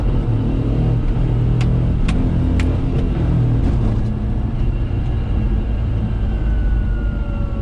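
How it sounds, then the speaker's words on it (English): A Daihatsu Hijet kei truck rolling along in all-wheel drive, its engine and drivetrain giving a steady, loud low rumble with whirring from the turning drive shaft, a few faint clicks early on, and no talking. "Kind of can hear like the drive shaft and everything turning."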